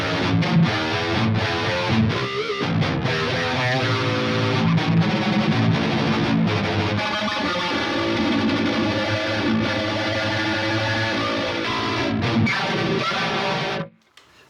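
Heavily distorted 8-string electric guitar through a Neural DSP Archetype Nolly X amp simulator plugin, chugging and ringing with chorus-like shimmer, played alone and loud before cutting off abruptly at the end.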